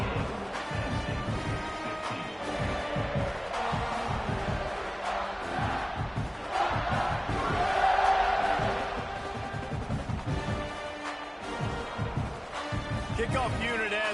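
A home crowd roaring at a Houston vs Penn State college football game, a sustained stadium din that swells to a peak midway, while a commentator talks over it throughout.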